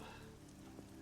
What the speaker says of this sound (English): It's raining pretty heavily too.